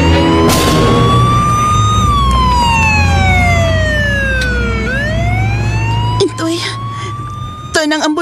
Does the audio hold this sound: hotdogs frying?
no